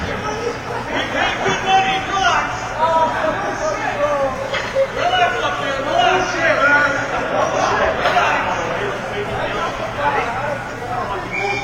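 A hockey crowd at a summer league playoff game chants and boos together, many voices blending into a loud, steady roar that stays constant throughout.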